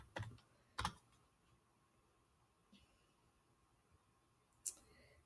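Keys on a wireless keyboard tapped to enter a password, a few sparse, quiet clicks spaced over several seconds against a faint room hum.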